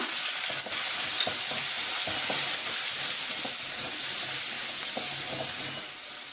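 Turmeric and asafoetida fry in hot oil for a mixed vegetable ennegayi, a steady bright hiss and sizzle, close and even throughout, with a few light stirring clicks and no voices.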